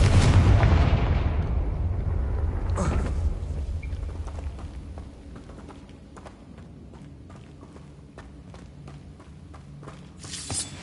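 A Confringo blasting spell in the Hogwarts video game lands with a heavy, booming explosion up close, its rumble trailing off over several seconds into quieter footsteps and scattered clicks.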